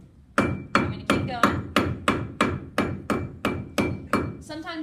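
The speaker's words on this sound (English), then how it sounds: "I'm spinning it as I'm hammering it." A metal ring band being hammered on a tapered ring mandrel, twelve loud, evenly spaced ringing strikes about a third of a second apart, close and alone, with a brief metallic clatter at the end.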